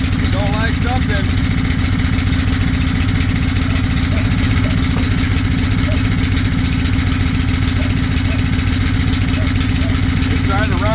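A small engine fitted with a cheap Chinese carburetor bought on Amazon runs loudly and continuously, its steady throbbing drone close by for the whole stretch, with voices faintly underneath.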